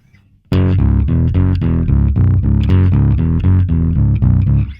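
A punchy, heavily processed electric bass line through a Boss ME-90B preset with a synthetic, buzzy tone, playing a steady repeating groove loud and close with no voices.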